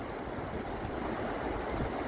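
Rushing dam water pours in a steady, dense roar that sweeps a dog along, close and continuous with no voices over it.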